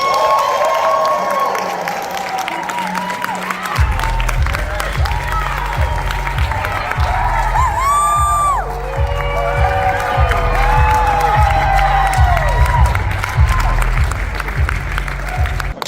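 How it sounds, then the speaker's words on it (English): An event crowd welcomes speakers onto a stage with loud applause, cheering and whoops, a thick wash of clapping and shouting that runs the whole stretch while a pulsing bass beat of walk-on music thumps underneath. "can I get a big round of applause and a welcome"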